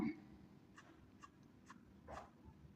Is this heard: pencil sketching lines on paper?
yes